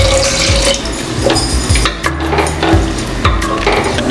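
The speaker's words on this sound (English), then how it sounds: "I'm going to add a cup of thick coconut milk." Thick coconut milk is poured into mutton cooking in a pan, giving a close, steady liquid pour with bubbling and stirring clatter and a soft sizzle.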